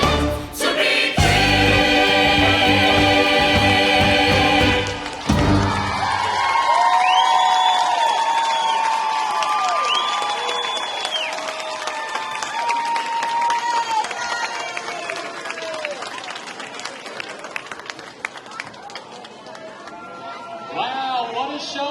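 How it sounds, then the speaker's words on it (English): Audience applause and cheering fill a hall after a spring recital, starting as a loud, dense roar that stays steady, then thins into lighter clapping and crowd chatter with scattered whoops over about twenty seconds. "Let's give it a round of applause once again"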